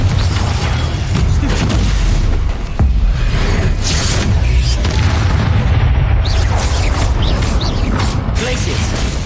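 Confringo fire spell blasts in the Hogwarts Legacy video game, loud booming explosions and crackling bursts over a dense combat soundscape, with a voice shouting spell names throughout.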